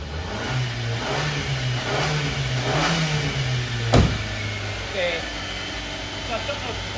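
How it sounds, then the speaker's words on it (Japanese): A small Japanese kei truck's engine runs roughly, its hum wavering and revving unevenly, with a sharp knock partway through. Nearby people talk over the engine. "よくエンジン今かけてくれたんだよね。 なんかガソリンが 古いんじゃない？ あ、また なんか調子が悪そうだよね。"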